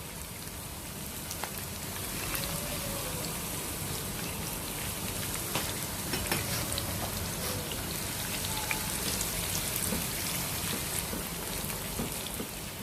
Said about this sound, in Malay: mulalah kita menggoreng bawang untuk ditabur di atas sup